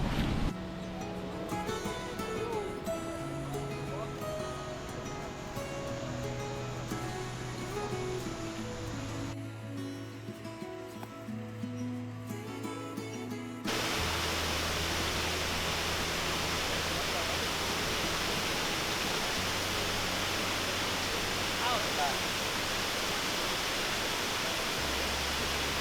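A wide river flowing on a trail to the Buracão waterfall in Chapada Diamantina, heard as a broad, steady rush of water that takes over halfway through after a stretch of tonal music, loud and constant to the end.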